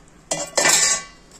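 A metal spoon scrapes and clinks against a pot as beans, peas and cauliflower are stirred into gravy for veg dum biryani. The two close, loud strokes come in quick succession.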